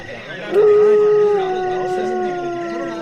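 A human voice imitates a jackal's howl, the rural hukka-hua call, holding one long rising then sustained wavering tone, close and fairly loud, with no other speech.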